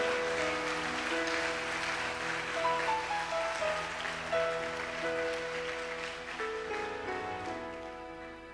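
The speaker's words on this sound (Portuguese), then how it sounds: "Vamos aplaudir ao Senhor por isso?" A church congregation applauding the Lord during a Sunday service, sustained clapping blended with held musical tones, fairly even in loudness and slowly easing off toward the end.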